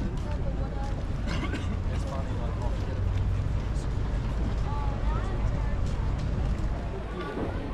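A cruise ship, the Disney Wonder, rumbles low and steadily over lapping water, with people chatting in the background throughout.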